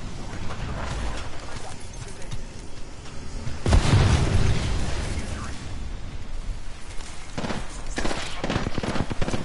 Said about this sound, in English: Throwing bombs on them bugs